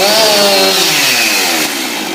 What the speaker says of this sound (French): je vais tenir le gaz un peu plus